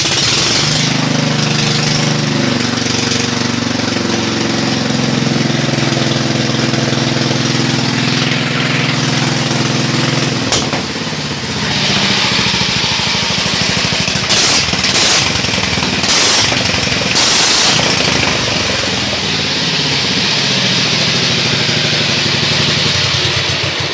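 A racing lawnmower engine is started and run up, running loud and continuous with a rough, rapid firing chatter that rises as it idles up and holds steady close by.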